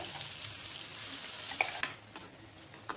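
Ground tomato and boiled chickpea paste sautéing in a pan, a steady close sizzle with a few light spatula knocks and scrapes scattered through it.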